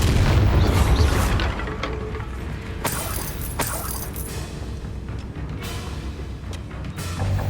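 A Bombarda blasting spell in Hogwarts Legacy lands as a deep, heavy boom at the start and is followed by several sharper cracks and debris-like bangs over rumbling game ambience, with no talking.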